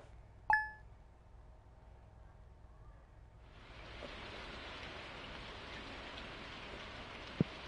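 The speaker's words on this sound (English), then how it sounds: "Nice little rainy day here." A chime rings once at the start, then steady rain in the video game Stardew Valley swells in and keeps falling as an even hiss, with a couple of small ticks near the end and no talk.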